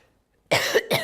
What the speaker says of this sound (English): I'm just got a tickly cough.